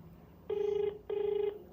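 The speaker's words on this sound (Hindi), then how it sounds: "फ़ोन बज रहा है इधर ही।" A telephone rings twice, a steady electronic trill with a short pause between rings, fairly quiet in an otherwise still room.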